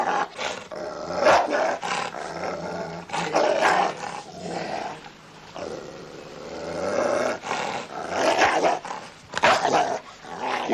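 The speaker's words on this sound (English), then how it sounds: "Not with that dog." A large dog in a British drama scene barks and growls loudly and repeatedly in close, rough bursts, with no talk over it.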